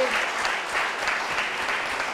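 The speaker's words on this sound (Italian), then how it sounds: "Un applauso e grazie a voi che siete venuti a darci" Applause from the audience at a municipal election candidates' debate in Surbo, Italy, a short even burst of many clapping hands at moderate level.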